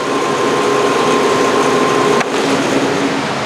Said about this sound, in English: So starting up the motor, stopping again.